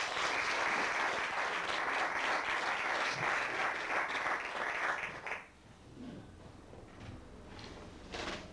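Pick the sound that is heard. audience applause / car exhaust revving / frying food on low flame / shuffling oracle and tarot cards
audience applause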